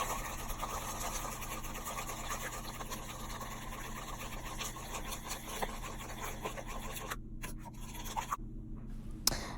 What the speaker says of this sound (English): Add in an egg, and then you're going to mix this together.